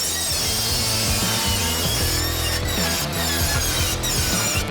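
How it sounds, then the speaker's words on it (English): Saw cutting a metal bracket piece along a marked line for a truck chassis build, a loud continuous rasping cut with steady rhythmic strokes, close up and without talk. "that's where I'm gonna cut it on the saw"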